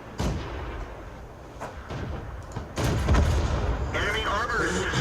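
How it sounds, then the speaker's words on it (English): Tank destroyer cannon fire in the World of Tanks video game, heard as heavy booming shots and rumbling impacts mixed with game noise, loud and near, while someone talks over it. "There's the tank destroyer that's firing from up the top."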